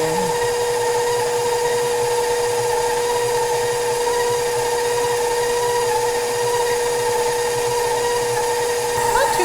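KitchenAid Professional 5 Plus stand mixer creaming a batch, a steady loud motor whine with constant tonal hum running unbroken throughout, no talk over it.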